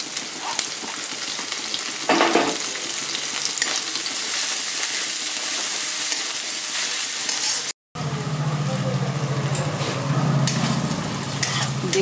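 Chopped garlic, ginger and green chili fry and sizzle in a pan for chilli mushroom, a loud, continuous close sizzle stirred now and then, with a brief cut partway through and a deeper frying tone afterward.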